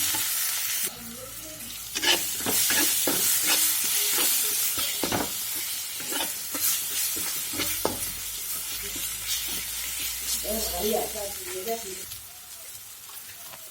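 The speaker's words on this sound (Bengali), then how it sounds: "মশলাগুলো দিয়ে ভালো করে ভেজে নেব।" Turmeric, chili, cumin, salt and a little sugar frying in a pan for a mirga fish curry: a bright, hissing sizzle with repeated spatula taps and scrapes, and a voice briefly talking in the background.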